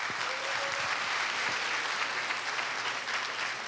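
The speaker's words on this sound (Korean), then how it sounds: "힘찬 박수로." Strong audience applause fills a hall at a Korea University alumni choral festival, a dense, steady wash of many hands clapping close and loud throughout, with no voices on top.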